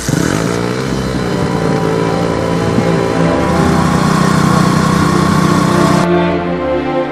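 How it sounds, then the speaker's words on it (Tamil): A two-wheeler's engine, repurposed to pump water from a pond into farm fields in Aranthangi after a cyclone cut the power, drones loud and steady with a buzzing, rough idle, running continuously close by without any talk. "இருசக்கர வாகனத்தில் உள்ள இன்ஜின் மூலம் குளத்தில் உள்ள தண்ணீரை வயல்களுக்கு உறிஞ்சும் காட்சிகள்."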